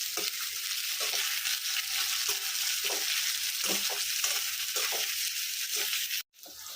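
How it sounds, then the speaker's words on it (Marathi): Onion frying in oil with garlic and chillies for soybean pulao, a continuous close hiss of sizzling broken by soft stirring scrapes, with no voices, ending in a brief cut. "आता आपण याच्यातला कांदा टाकून घेऊ"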